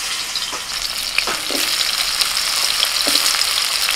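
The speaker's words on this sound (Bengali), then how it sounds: "এবার করলাগুলো একটু ভাজবো।" Bitter gourd slices sizzle steadily in hot oil in a wok, with a few soft stirring clicks and scrapes breaking through the continuous frying hiss; no one speaks.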